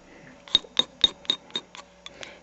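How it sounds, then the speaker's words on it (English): A razor blade scrapes colored soft pastel chalk in a series of about eight short, crisp scratches with slight clinking edges, spaced steadily over a couple of seconds, close and fairly quiet. "You take your color you're going to need, use a razor blade, scrape it off"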